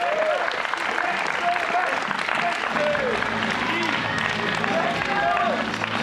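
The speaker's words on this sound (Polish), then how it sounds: "oklaski dla tych wspaniałych facetów" Sustained audience applause at an outdoor concert in Praski Park, dense steady clapping from a crowd lasting throughout, with voices and cheers mixed into it.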